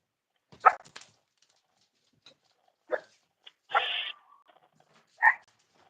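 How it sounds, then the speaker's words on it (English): Dogs giving scattered short barks and whimpers, a few separate yelps and whines spaced over several seconds with quiet gaps between them, nearby and unaccompanied by speech. "Dogs are acting a wee bit strange."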